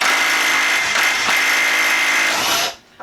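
A Milwaukee M12 Stubby impact wrench spins a nut off with a loud, steady whir that runs without a break for about two and a half seconds, then stops abruptly.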